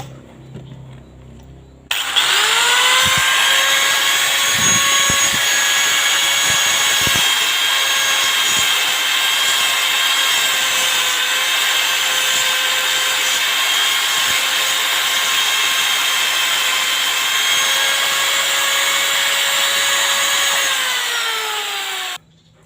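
A high-pitched power tool, probably a grinder or rotary cutter, runs steadily for about twenty seconds, trimming the plastic of an imitation Yamaha clutch cage for a Vega ZR motorcycle. It is loud and close, with brief contact scrapes at the start, and no talk.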